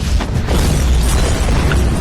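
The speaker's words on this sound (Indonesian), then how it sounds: "Gedung pun kembali meledak karena ternyata Hotel A juga sudah dipasangi bom" A bomb blows up a hotel building in a film scene, a loud sustained boom with a dense roaring rumble lasting the whole moment.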